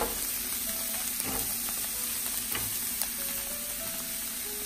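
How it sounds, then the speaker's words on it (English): Onions and garlic sautéing in a pan beside browned tofu, a steady moderate sizzle with several sharp scrapes and taps of a spatula, close up and with no talking. "Clear a little space to saute up my onions and garlic"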